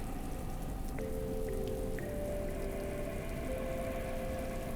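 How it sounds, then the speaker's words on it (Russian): Steady rain at a Maldives beach resort hisses and patters continuously, with a faint tonal hum running through the background. "В следующие дни дождь догонял нас где угодно."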